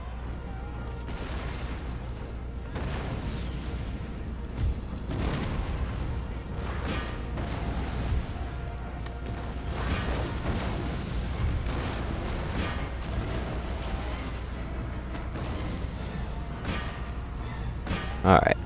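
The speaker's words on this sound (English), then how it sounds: "let's hit them pretty good with our howitzers" Howitzer artillery fire in a war strategy game booms repeatedly through dense, noisy battle sound, with someone talking over it.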